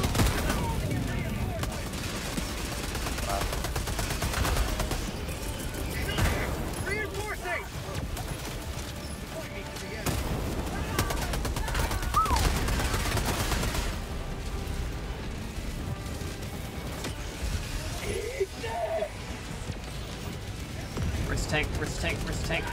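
Sustained gunfire in the co-op shooter Helldivers 2: loud, dense machine-gun chatter and bursts with occasional explosions that run almost continuously, along with players talking over the noise.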